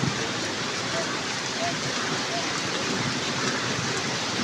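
Heavy rain falls steadily on a village in Haripur district, Pakistan, on a morning, a dense even hiss without pauses, moderately loud and close.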